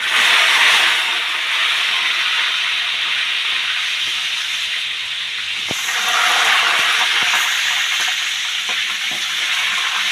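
Rabbit pieces frying in very hot oil in a backyard farm kitchen give off a steady, loud sizzling hiss, broken by a few brief spatters and pops.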